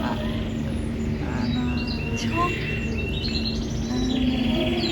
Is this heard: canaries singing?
yes